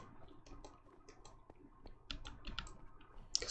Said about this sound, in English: Clicking intensifies.